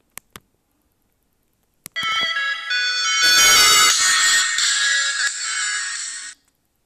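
A bright, busy electronic intro jingle for an Italian smartphone how-to channel plays loud and steady for about four seconds after a couple of faint clicks, with no talk over it.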